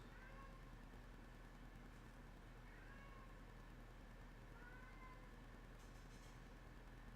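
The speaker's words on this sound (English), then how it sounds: "And that is my cat calling me my name." A cat meows several times indoors, short rising calls spaced a couple of seconds apart, fairly faint over a steady low background hum.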